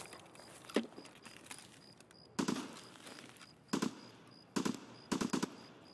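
Gunfire in Escape From Tarkov on the Lighthouse map, several bursts of rapid automatic shots with single cracks between them, over a faint repeating beep.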